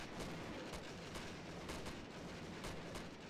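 Rapid video game gunfire in a GTA-style shooter, dense repeated shots and bursts in quick succession, loud and continuous with no talk.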